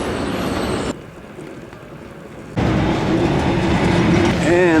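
A passenger train running on rails in Sweden near Alvesta, a loud steady rumble with rhythmic wheel clatter and a short muffled stretch, then squealing wheels toward the end.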